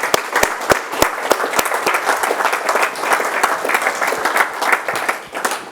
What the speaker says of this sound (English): So can we have a bit of a round of applause for those people?